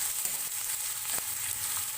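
Onions fry in a pan with ginger, chilli and garlic, giving a quiet, even sizzle while a spatula stirs them, with one clear scrape partway through.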